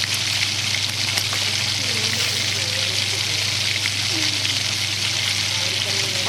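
Onions frying in a pan for a masala oats breakfast, a steady bright sizzle running unbroken at low volume, with faint scraping from stirring now and then.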